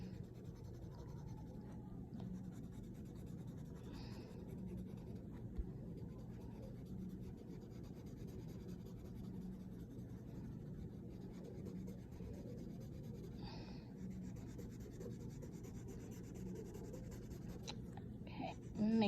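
A cotton swab rubs back and forth over pencil shading on paper, a soft continuous scratchy friction close to the mic, with brief talk at moments.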